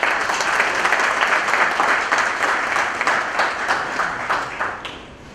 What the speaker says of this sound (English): I will request you to welcome them with a big applause.